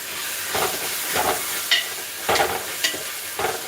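Chicken and rice are stirred hard in a pot, giving a soft hiss broken by several forceful scraping sweeps and clanks of the utensil against the metal, close by and roughly evenly spaced.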